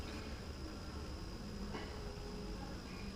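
A steady, dense buzzing of many agitated honey bees from a queenless hive fills the air, constant and fairly close, with no voices over it.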